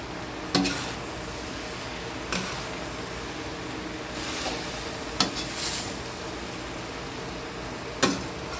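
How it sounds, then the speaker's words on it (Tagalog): Cabbage stir-fried for pancit bihon, giving a low, constant sizzle with occasional sharp clacks of a utensil against the pan spaced several seconds apart, with no voices. "halo-haloin ko lang po para maluto kagad yung repolyo"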